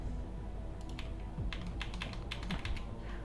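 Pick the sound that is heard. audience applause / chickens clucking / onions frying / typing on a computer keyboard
typing on a computer keyboard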